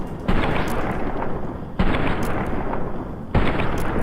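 Three loud bursts of automatic gunfire in the Fallout: Tale of Two Wastelands game mod, each a dense sustained rattle lasting over a second, shooting into the floor, close and alone without talk.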